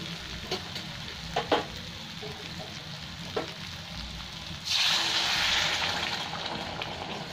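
Boiled water poured into a pan of kofta curry with bottle gourd (lauki), a burst of loud hissing and bubbling after a few quiet utensil clinks, staying strong before easing slightly.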